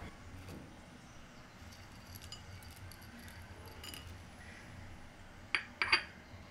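Peanuts tipped into a bowl of chickpea salad: mostly quiet, then a few sharp little clinks and rattles against the bowl close by near the end.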